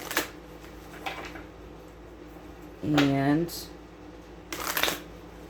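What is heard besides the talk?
shuffling tarot cards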